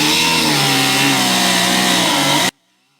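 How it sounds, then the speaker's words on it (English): An abrasive cutoff wheel grinds through the magnesium deck of an M274 Mule, a loud, close, steady droning whine that cuts off abruptly, leaving near silence. "I know an abrasive cutoff wheel is not the best for cutting any non-ferrous stuff like this"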